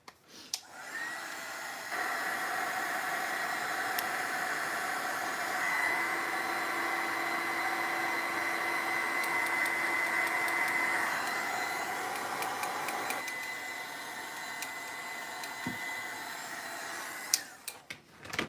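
A heat tool drying a steampunk craft project blows with a steady whirring hum for about eleven seconds, starting and stopping abruptly, close and fairly quiet, with no talking.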